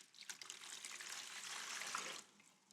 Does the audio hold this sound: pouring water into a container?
yes